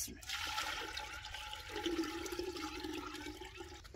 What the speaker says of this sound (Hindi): हांडी में डालेंगे पानी।